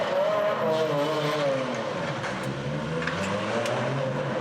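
A GT race car passes at speed during Blancpain Sprint Series free practice in Moscow, its engine a loud sustained roar with a shifting pitch sweeping through the pass, no talk over it.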